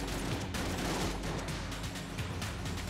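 Dense weapon fire from the bullet-hell game Enter the Gungeon, a loud continuous barrage of overlapping shots and impacts with no pauses.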